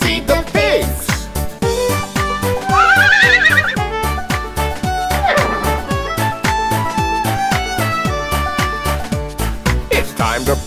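A horse neighs over a bouncy, rhythmic children's nursery song, a short whinny rising above the steady beat of the music.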